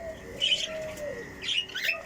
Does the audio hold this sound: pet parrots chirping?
yes